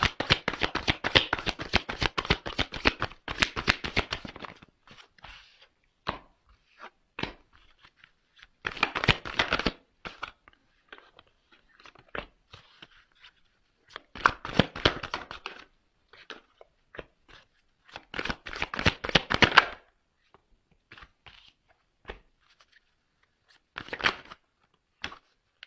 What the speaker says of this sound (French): je fais sauter les cartes devant vous